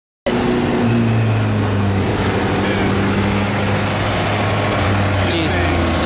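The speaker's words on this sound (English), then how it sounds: "Next on the dyno is this R1M." A Yamaha R1M sport motorcycle fitted with a full Austin Racing exhaust runs on a dyno, its engine cutting in abruptly and then holding a loud, steady, droning note close by without letting up.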